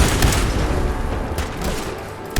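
Rapid laser gunfire in a shooter video game crackles in a dense, continuous volley with a few sharper bursts standing out, loud and close, with no voices over it.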